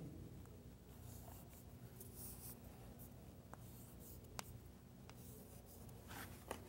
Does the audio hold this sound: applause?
no